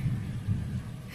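Deep thunder rumbles steadily from a distance on a very hot day before rain, a continuous low roll with a couple of louder swells.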